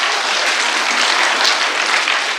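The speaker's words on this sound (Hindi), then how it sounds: "एक बार मजमूई तौर पे यार तालियां बजनी चाहिए, इतना शानदार गीत पढ़ा जा रहा है।" An audience at a mushaira and kavi sammelan poetry recital in Ghaziabad breaks into applause. The clapping is loud, dense and continuous for a couple of seconds.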